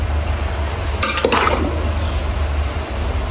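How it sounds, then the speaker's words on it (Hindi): Spring roll filling being mixed in a large cooking pot makes a steady low rumble and hiss, with a brief burst of metallic scraping and clinking near the middle. "अब अच्छे से मिक्स करना है आपने इसको"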